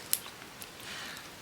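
Scissors snip through lace with one sharp, close cut followed by a couple of faint snips in a quiet room.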